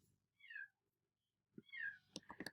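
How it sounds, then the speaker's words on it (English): A cat meows nearby, first one short meow and then a longer one, followed by a few soft clicks and knocks. The sound is fairly faint in a quiet room. "Sorry, I can't concentrate with that cat."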